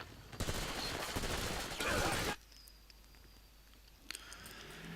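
Rapid rifle gunfire from GDI riflemen in a real-time strategy game: a dense, crackling fusillade of overlapping shots for about two seconds stops abruptly, followed by quieter scattered clicks and one more sharp report.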